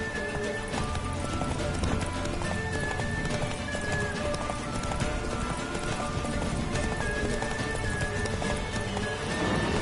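Hooves of Roach, the horse in The Witcher 3, pound in a rapid, steady galloping rhythm throughout, loud and close, over a layer of tonal game music.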